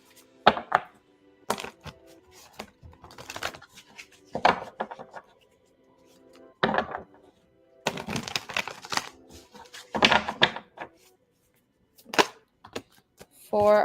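A deck of tarot cards is shuffled in irregular, crisp bursts of riffling and slapping separated by short silences, close and fairly loud, with occasional speech in between.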